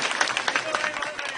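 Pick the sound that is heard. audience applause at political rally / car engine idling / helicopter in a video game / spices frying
audience applause at political rally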